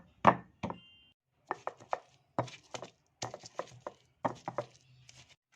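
Rhythmic stone-on-stone pounding and grinding of spices and turmeric with a mortar and pestle, a series of sharp knocks in irregular bursts, fairly close with no talk.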